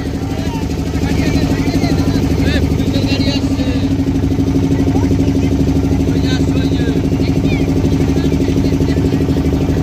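Engine of a police patrol boat on the Ganges at the Varanasi ghats hums loud and steady nearby, a continuous idling drone with voices talking over it.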